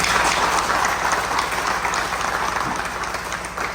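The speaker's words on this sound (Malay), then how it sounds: "Kita beri tepukan dengan mereka" Villagers at a gathering in Long Latei clapping for the Dayak Deli performers, a full, even burst of applause from many hands that holds steady and tapers slightly toward the end.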